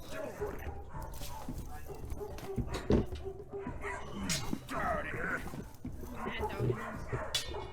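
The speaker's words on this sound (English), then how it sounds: "The barking coming from the TV is overwhelming the sound of the stream." A dog barks from a television in a room during a tabletop role-playing game session, repeated yips and barks of moderate loudness mixed with people talking.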